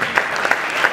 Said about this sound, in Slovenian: dajmo kar velik aplavz